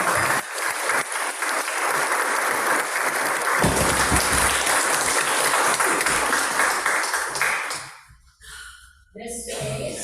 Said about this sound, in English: let's just give everybody a great applause.